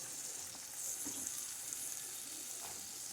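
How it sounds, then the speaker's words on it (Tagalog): Sliced eggplant frying in a pan as a soft, steady hiss of sizzling oil, with faint clinks of stirring, quiet and continuous throughout. "Tapos ilagay na natin ang talong na hiniwa."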